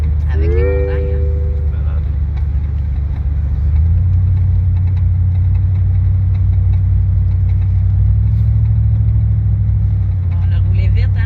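A car being driven fast along a road in the mountains, heard from inside as a loud, steady low engine drone that rises slightly in pitch as it speeds up, with voices talking over it.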